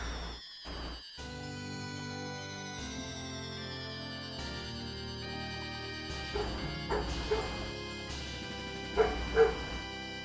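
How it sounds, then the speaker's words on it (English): A dog barks outside in a few sharp yips, spaced out and set behind steady music and game sounds. "Dog is going crazy out there."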